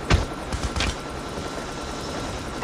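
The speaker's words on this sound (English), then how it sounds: "Stealth chopper inbound." Stealth chopper helicopter from the video game Call of Duty Mobile flying overhead, a steady whirring rotor drone with a couple of louder swells near the start, heard alone at moderate level.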